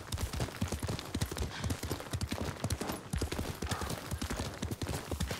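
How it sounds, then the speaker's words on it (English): A horse in the video game Ghost of Tsushima gallops with steady, rapid hoof clip-clops throughout, close and continuous with no talk. "that's get off the horse in this game"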